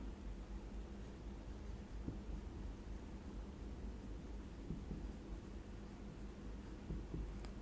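Steady scratchy writing on a board during a math lesson on triangle vector addition, a continuous low rustling scrawl that runs without pause and with no talk over it.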